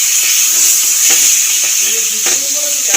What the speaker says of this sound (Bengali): হলুদ, ঝাল লঙ্কার গুঁড়ো, নেড়ে চেড়ে মশলাটাকে ভালো করে কষিয়ে নেব।